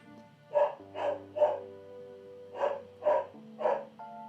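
A dog barks in two quick bursts of three, moderately near, over a soft background of sustained music tones.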